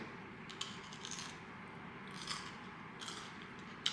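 A few quiet, crisp crunches from biting into a firm, crunchy fruit, spaced irregularly against a soft background.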